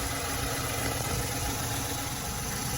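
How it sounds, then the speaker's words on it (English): A VW Polo 6R Mk5 salvage car's engine idles with a steady, loud, continuous hum and low rumble, close by, with no talking over it. "Sorry about the engine noise."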